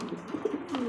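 A pigeon gives a brief soft coo at close range, a short burst of low throaty murmurs with light background noise and no talking.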